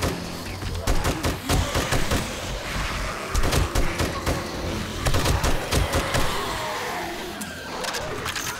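Gunfire erupts in the zombie survival video game 7 Days to Die while a player aims for headshots, with repeated sharp shots in irregular bursts over a continuous rumbling game background.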